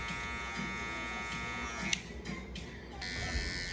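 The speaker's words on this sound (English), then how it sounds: "continue to blend the line that you created with the balding machine." A balding machine clipper buzzes close up while blending a beard line during a mid skin fade, a steady electric hum with a few brief scraping strokes and shifts in tone.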